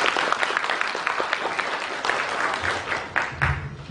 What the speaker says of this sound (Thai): ขอเสียงปรบมือเป็นการขอบคุณท่านอาจารย์อีกสักครั้งครับ